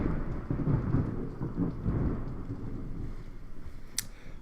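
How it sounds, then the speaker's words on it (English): Thunder rumbles low and heavy during a tornado outbreak storm, mixed with steady rain noise, fading toward the end with a brief sharp crackle near the finish. "Thunder."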